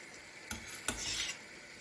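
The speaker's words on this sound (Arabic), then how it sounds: "هنا توا باش نحرك المقرونه كما شفتوا باش تشرب الصوص." Pasta with olives and capers being stirred through sauce in a pan, two short wet scraping strokes close by, quiet and alone.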